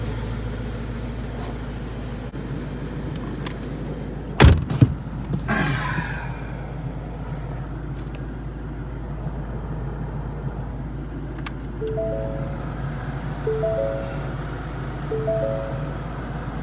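Inside a Ford Mustang, a steady low engine and road rumble fills the cabin, broken by a couple of sharp thumps near the middle and some faint tones later on.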